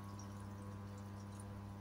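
A Whirlpool White Magic Classic washing machine filling with water gives a steady, even rush of inflow, joined by a constant low mechanical hum.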